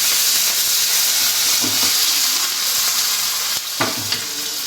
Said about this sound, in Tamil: நம்ம மிளகா வறுக்கிறோம் பாருங்கள்